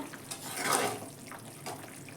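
A cauliflower curry with eggplant and potato boils in a pan, giving uneven watery bubbling and gurgling bursts that swell and fade over a soft background.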